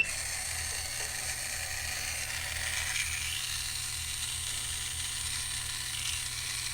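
The gear transmission of a TRX-4M RC truck runs with its case screws left out, giving a steady close high-pitched whine and buzz with a slight rattle throughout, no voices.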